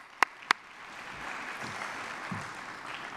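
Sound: applause from audience at scholarship awards

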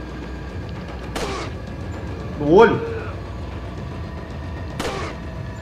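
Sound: gunfire in Resident Evil 4 video game

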